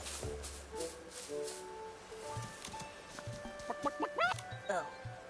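An old man in the Infinity Nikki video game imitates a chicken with his voice, producing repeated clucking calls in a quick, bobbing rhythm over steady background game music.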